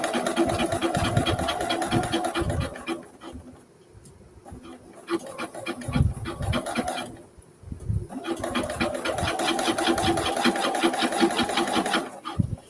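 A sewing machine stitching through denim jeans, close and steady, easing off and slowing in the middle as it crosses a bulky seam, then picking back up to a continuous hum.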